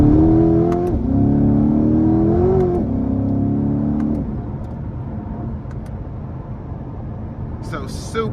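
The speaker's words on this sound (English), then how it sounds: "I'm gonna give it a bit of throttle here. We're just gonna keep it in second and redline it." A 2023 Corvette convertible with a 6.2-litre V8 revs hard in second gear toward redline, a loud rising engine roar that climbs in pitch, dips at a shift, climbs again, then falls back to a lower steady drone.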